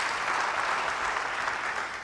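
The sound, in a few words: church congregation applause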